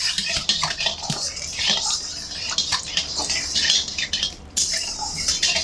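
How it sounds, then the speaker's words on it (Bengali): Mustard oil is stirred in a cooking pan with a utensil. A steady sizzling hiss carries close scraping and clinking of metal against the pan throughout, with no voices. "এই তেলের মধ্যে আরো একটু সর্ষের তেল দিয়ে দিচ্ছি। তেল একটু নেড়ে চেড়ে দেবো।"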